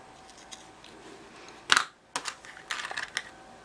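Scissors snip through thread during a plush craft project: a sharp close snip, a brief pause, then a few softer clicks and small handling noises, no talk.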